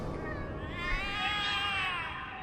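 Several cats meowing and wailing in The Cat Lady video game, a rising, wavering chorus of cries held close and fairly loud across the whole stretch.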